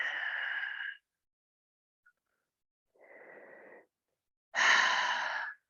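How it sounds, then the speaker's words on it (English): A person breathing deeply during a stretching exercise: three slow, airy breaths, close and soft, separated by silent pauses, with the last exhale the loudest. "Breathing."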